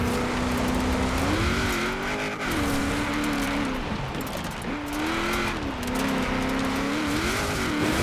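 A car accelerates hard in Forza Horizon 4, its engine note climbing and shifting through gears in a steady, loud, continuous drone near the listener, with brief dips between rises.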